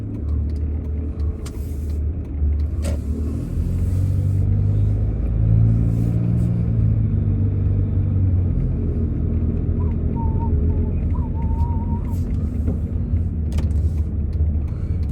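A new car driving along after pulling away, its engine and road noise forming a steady, close low rumble throughout with no talking.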